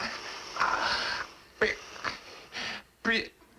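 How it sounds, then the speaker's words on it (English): A motor-driven mechanical bellows pump hidden under a casket wheezes in slow, uneven breath-like puffs, several distinct hissing strokes close by with short pauses between them. "Just mechanical pump. Sounds like breathing."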